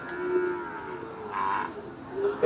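Cattle moo at a border-area cattle market where farm-ready bulls are sold, with low lowing calls sounding through the busy ambient noise of the crowded market, moderately close and fairly loud.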